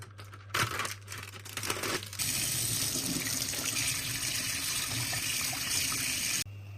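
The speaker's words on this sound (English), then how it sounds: "While it heats, rinse the squid tentacles." Tap water runs into a sink as squid tentacles are rinsed, with rustling handling at first, then a steady, fairly close stream of water that cuts off at the end.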